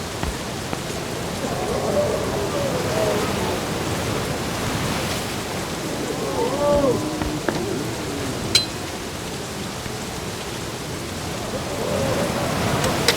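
Steady rain falls in The Dark Eye: Chains of Satinav, a broadband hiss running the whole stretch with a brief sharper tick near the middle and a few faint tonal murmurs beneath.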